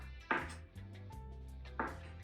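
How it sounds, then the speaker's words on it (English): A knife slices through a whole ball of mozzarella on a board, giving three soft, separate cuts at close range, each a short muffled thud, with no one speaking. "next she slices a whole mozzarella like this"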